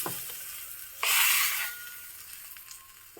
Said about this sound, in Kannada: ಎಣ್ಣೆ ಸಾಸಿವೆ ಮತ್ತು ಇಂಗು ಬೇ ಕರಿಬೇವು ಹಾಕಿರೋ ಒಗ್ಗರಣೆ